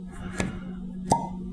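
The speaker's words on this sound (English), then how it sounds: "cork pop" A cork pulled from a bottle of Wyoming Small Batch bourbon: two sharp, close pops roughly seven tenths of a second apart over a steady low hum, with no talk.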